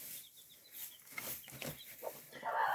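A hen calling her three-day-old chicks to food, faint soft clucks mixed with high peeping from the chicks, close but quiet over light background noise.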